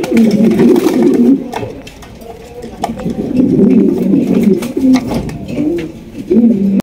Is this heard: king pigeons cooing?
yes